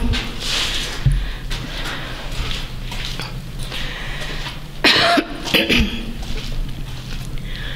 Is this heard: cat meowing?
no